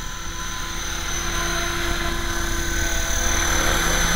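A small RC model helicopter is in flight. Its rotor and motor make a loud, continuous, close buzzing whine that swells slightly as it goes, with no speech.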